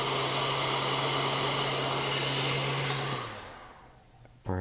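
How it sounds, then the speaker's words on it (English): Hair dryer-style heat gun blowing steadily as a skin is heated over the camera of a Galaxy S5 phone, a loud constant whir that winds down and stops near the end, followed by a brief bump. "So we're gonna apply heat now here on the camera itself."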